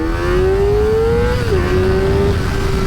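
Kawasaki ZX4RR sport motorcycle with a flashed ECU accelerating hard from standstill toward 60 mph, its high-pitched engine whine climbing steadily, dipping briefly at a gear shift, then rising again, loud and close throughout.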